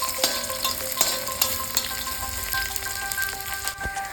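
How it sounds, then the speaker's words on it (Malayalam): Sliced onions fry in a pan and are turned over continuously. A busy crackling sizzle runs throughout, broken by sharp spoon taps and scrapes against the pan, near and unaccompanied. "അപ്പോൾ ചെറുതായിട്ട് സവാള നിറം മാറുന്നവരെ ഇങ്ങനെ ഇളക്കി മറിച്ചുകൊണ്ടേയിരിക്കും."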